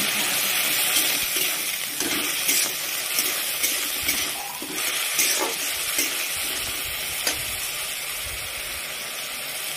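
Water goes into hot masala for dalma, an Odia lentil dish. A loud, steady sizzle and hiss follows, broken by a few clinks and stirring scrapes from the pan, with no talking.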